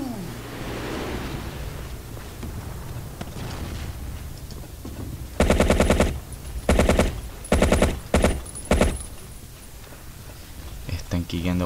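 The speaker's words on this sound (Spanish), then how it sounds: "¿por qué se disparan entre ellos?" Gunfire in a Battlefield online match: several sharp, loud automatic bursts in quick succession, set over a steady noisy game backdrop, with players talking.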